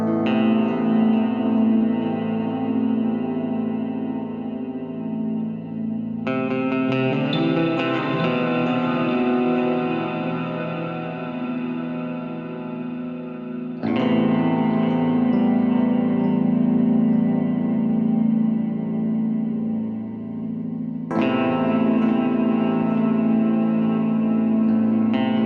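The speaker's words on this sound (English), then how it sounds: "This is the keys with the guitar." Electric piano chords ring out with guitars, washed in heavy reverb and echo, in a steady instrumental passage with sections that shift at intervals.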